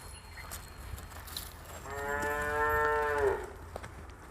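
An HF dairy cow at a farm gives one long, loud, drawn-out moo lasting over a second, rising then falling off, with quiet farmyard background before and after.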